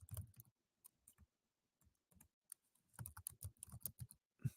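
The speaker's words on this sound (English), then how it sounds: "I'm trying to type in stuff in my Twitter." Bursts of typing on a computer keyboard while entering a Twitter post, with quick clusters of key clicks broken by pauses, close and fairly loud in a quiet room.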